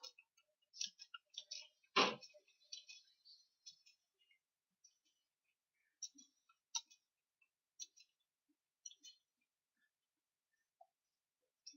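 Computer keyboard typing during a typing test demonstration: sparse, faint key clicks come in small irregular bursts, with one sharper, louder keystroke near the start and quiet gaps between.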